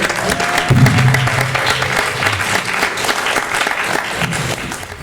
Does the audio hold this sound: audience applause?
yes